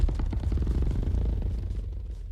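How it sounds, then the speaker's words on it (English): A leather bag handled and creaked to add texture to an alien dragon roar: a steady, close, rough rattling crackle with rapid grainy pulses over a low rumble, holding at an even level throughout, with no talking. "Again, that's just the leather bag."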